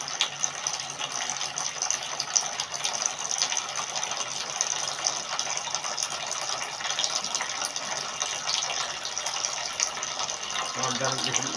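Water filling a tank after the pump is switched on, a continuous even hiss and gush throughout, with a voice speaking faintly under it.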